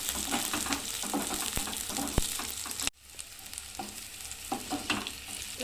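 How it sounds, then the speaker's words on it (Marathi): Grated coconut, onion and garlic roast in a pan for a paneer dish, a close crackling sizzle broken by spatula scrapes and clicks, with a short dip in level midway before the frying resumes. "खोबरं पण असं छान असं भाजून घ्यायचं आहे"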